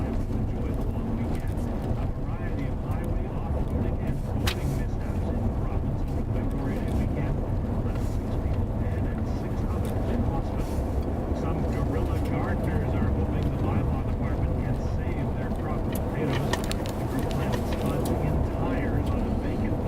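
A car rolls along a bumpy gravel road with a constant low rumble and road noise, broken by small knocks and rattles from the rough surface, while someone talks throughout.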